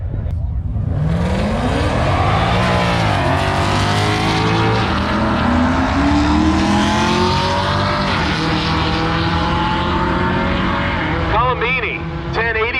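Mustang and Camaro muscle cars drag racing head to head at an NMCA 2022 event, a loud sustained engine roar with rising gear pulls across the run, with a track announcer talking over it.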